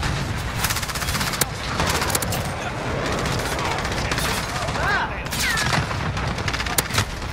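Dense, continuous MP7 gunfire from a video game, rapid automatic shots layered over explosions and game noise, loud and close throughout, with talk mixed in.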